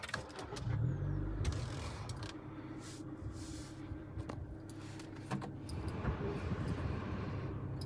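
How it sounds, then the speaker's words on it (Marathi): A Honda Amaze 2025 car's engine starts close by: a short low cranking burst settles into a steady idle hum, with light clicks and cabin rattles around it. "गाडी आपण आता स्टार्ट करू."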